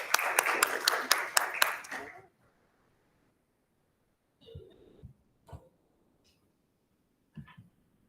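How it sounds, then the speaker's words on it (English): Audience at a school board of education meeting claps briefly to welcome a new newspaper reporter, a short burst of a few seconds of close, crisp clapping that stops, followed by faint scattered knocks and rustles. "Can we applaud her?"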